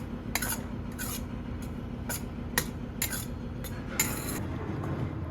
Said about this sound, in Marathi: एकसारखं पीठ हलवत राहायचं